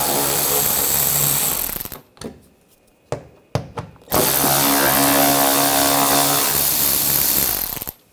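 A power tool with an 8mm socket runs screws out of the rear engine splash shield on a 2007–2013 BMW X5, whirring loudly in long bursts with a few short stop-start spurts in between.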